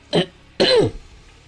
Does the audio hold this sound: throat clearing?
yes